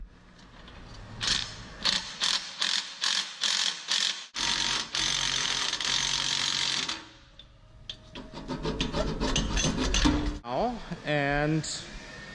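A hand ratchet snugs up exhaust bolts on a loud aftermarket exhaust in quick rhythmic bursts of clicking, followed by longer ratcheting and metallic scraping up close.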